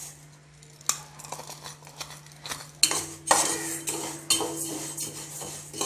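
Moong dal being dry-roasted in a hot kadai, with a spoon scraping and clinking against the metal in irregular strokes, close and moderately loud, some sharper knocks, no talking.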